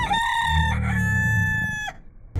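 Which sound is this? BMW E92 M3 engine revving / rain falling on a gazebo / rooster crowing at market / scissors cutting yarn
rooster crowing at market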